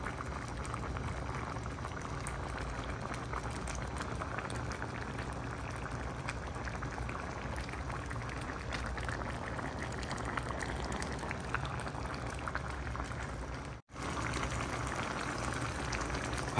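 A pot of ginisang munggo, mung bean stew with chicharon and cabbage, bubbling steadily at a simmer, a continuous close boil with no talk, briefly cut off near the end.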